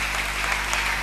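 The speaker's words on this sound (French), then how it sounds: "Sous vos applaudissements." An audience at a conference claps in dense, steady applause, a brief moderate wash of many hands, with no talking.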